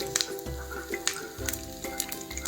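Dried red chillies and cumin seeds crackle and sizzle in hot oil, a steady close frying hiss broken by sharp pops and a few low stirring thumps, with no one talking.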